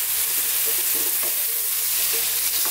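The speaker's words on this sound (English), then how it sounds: "Let's give these a little mix." Fresh ripe tomatoes frying and sizzling in a pan for shakshuka, stirred with soft scraping strokes over a steady hiss, close and continuous, with no talk.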